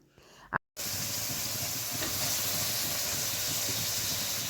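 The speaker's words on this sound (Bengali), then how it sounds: "যখন মশলা থেকে তেল বের হয়ে আসবে এই পর্যায়ে দিয়ে দিব আমি চিকেনগুলা" Chicken pieces drop into spice masala as the oil separates in a pan, setting off a sudden loud, steady sizzle and hiss that carries on unbroken after a brief moment of silence.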